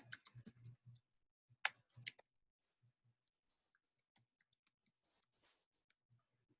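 Two quick bursts of computer keyboard typing, close and crisp, enter a web link, followed by sparse, faint single key clicks.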